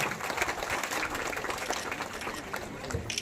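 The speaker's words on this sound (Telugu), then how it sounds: "ఒకసారి గట్టిగా చప్పట్లతో మన యొక్క కృతజ్ఞత తెలియజేస్తాము" Audience applause at a public gathering honouring women's savings groups: steady, dense clapping from a crowd, moderately loud and continuous throughout, with no clear pauses.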